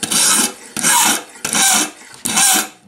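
Scissors are sharpened on a homemade sharpener: four loud, close rasping strokes in steady rhythm, each about half a second long with brief pauses between, and no talking.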